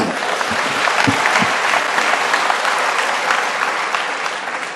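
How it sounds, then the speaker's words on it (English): Audience applause fills a tribute event for a late actor, a dense, steady wash of clapping from a large crowd sustained throughout, with a few louder claps standing out near the front early on. "Give him a good round of applause."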